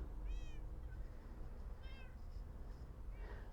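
A cat in a video game meows three times, each a short, clear, rising-and-falling call with pauses between, fairly faint over a low background rumble.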